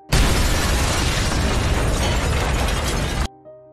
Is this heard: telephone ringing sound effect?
no